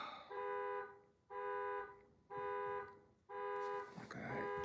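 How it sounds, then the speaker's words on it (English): An alarm sounds in repeated one-second buzzing blasts, four loud pulses with short gaps between them, followed by a brief burst of other noise at the end. "how long is the alarm going to go on?"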